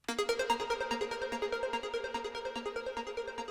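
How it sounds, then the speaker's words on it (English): A synth patch from Omnisphere with an adjusted delay timing repeats a bright, plucked tonal figure in a steady rapid pulse, each note echoing into the next at a moderate level with no voices. "This is just a nice Omnisphere patch where I had to change the delay"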